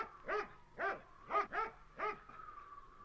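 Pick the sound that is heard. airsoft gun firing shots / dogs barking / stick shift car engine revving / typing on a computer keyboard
dogs barking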